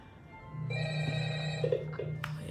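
A telephone rings in the Five Nights at Freddy's video game at the start of Night 1, a steady electronic bell tone held for about two seconds, clear and close, with a short burst of other game noise near the end.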